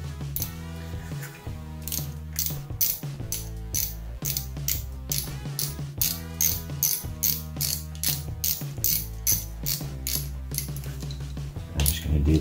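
Bracket nuts being tightened on the vacuum pump of a Mk4 Volkswagen Jetta TDI with the ALH diesel engine, heard as a rapid ratchet clicking in repeated bursts, close up and alone.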